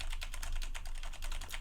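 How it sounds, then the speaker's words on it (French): Keys on a mechanical keyboard are hammered in a fast, steady clatter of sharp clicks, close up over a low background hum. "je passe au test du clavier mécanique. Je martèle les touches, ça fait du bruit"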